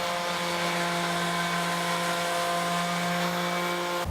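A power sander works elm slab lamp bases in a loud, steady, unbroken whine with a strong hum, running close and continuous until it cuts off at the very end.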